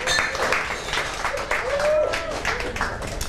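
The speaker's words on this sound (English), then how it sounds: "If you could give them a warm round of applause." Guests at a wedding reception give a round of applause, scattered clapping that rises and falls over a few seconds with voices mixed in underneath.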